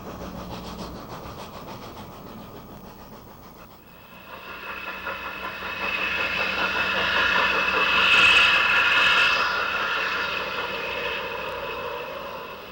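A pair of Cumbres and Toltec steam locomotives labor up the steep grade of Cumbres Pass, a hissing, chuffing rumble that grows louder and closer midway, peaks with a bright whistle-like tone, then holds steady.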